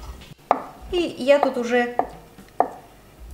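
A knife chops through boiled egg on a board while making rice and egg pirozhki filling, giving a few sharp, close taps spaced apart, with a person talking in between.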